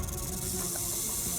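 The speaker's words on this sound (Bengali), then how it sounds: "স্যার, আমাকে সাপে কামড়ে দিয়েছে।" A snake hisses as a sound effect in a TV crime drama, a brief, dense, steady hiss that is loud and up close, with no voices over it.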